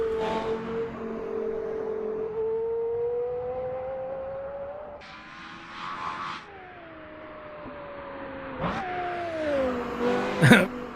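Porsche Carrera GT engine revving and accelerating through rising gear pulls, a steady tonal drone climbing in pitch with sharp blips near the end, fairly close and loud, with faint talk and a brief whoop underneath.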